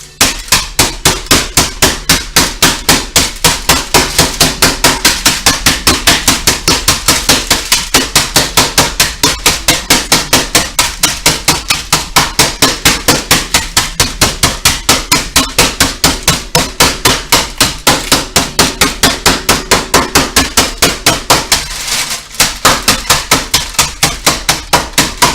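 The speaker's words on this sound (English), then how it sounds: "Get my trusty mallet. Let's get crushing." A mallet pounds steadily for a long stretch while crushing food for a Christmas dinner, delivering loud, close, evenly spaced blows with only one brief pause near the end.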